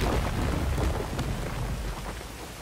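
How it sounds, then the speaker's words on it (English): Rain in the video game Jedi: Fallen Order, a dense steady downpour hiss with a low rumble underneath, loud and continuous throughout with no talking. "I mean, it's effectively raining."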